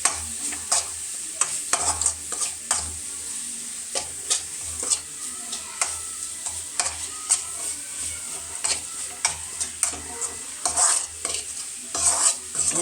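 Chopped green papaya thoran frying in a pan, stirred with repeated scraping clicks of a utensil over a continuous bright sizzle, close and fairly loud with no talking.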